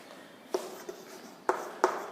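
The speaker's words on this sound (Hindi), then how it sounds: "इसकी हम डेफिनेशन लिखते हैं" Handwriting a physics definition about capacitors, faint soft scratches of pen on paper with a few sharper taps and strokes, close and quiet.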